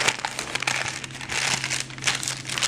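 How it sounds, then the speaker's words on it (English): Paper peeling away from a baked vegan blueberry cobbler: steady close crinkling and crumpling for about three seconds, loudest in the first half and again near the end, with no talk. "I'm going to peel away the paper"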